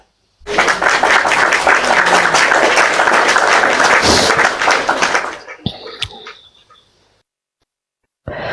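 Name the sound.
audience applause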